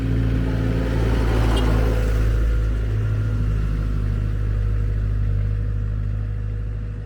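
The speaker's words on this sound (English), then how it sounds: "So here we have a farmer coming up with his tractor." A farmer's tractor approaches on a rural road near an abandoned castle in Istria, Croatia, its engine a steady low rumble that holds loud throughout, with a brief brighter tick near the start and no talk.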